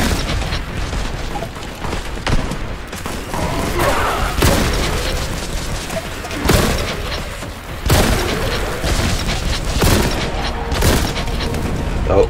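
Gunfire in the video game Warhammer 40K Boltgun, loud rapid booming shots and blasts in dense repeated bursts with heavy impacts, continuous throughout with no clear talk.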